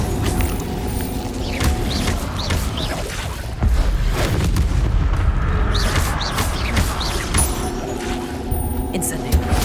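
Fire spells cast in rapid succession during Hogwarts Legacy combat on PC, dense loud bursts and booms layered with battle noise and a voice, continuous throughout.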